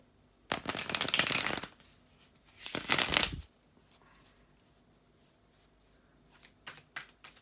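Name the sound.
shuffling tarot cards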